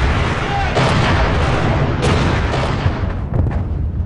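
Artillery barrage on a Finnish defensive line during the Winter War, a dense continuous rumble of shells exploding with sharper bursts standing out near the middle and toward the end, loud and sustained throughout.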